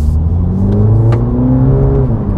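A 2020 Mini JCW GP3 with a petrol particulate filter revs briefly, its engine note climbing and falling in a loud, raucous, close burst lasting just over two seconds.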